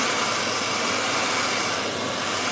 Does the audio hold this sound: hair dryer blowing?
yes